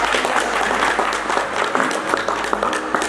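Loud, sustained applause from a crowd welcoming a minister at a water-themed public event, dense steady clapping filling the whole moment with a faint murmur beneath.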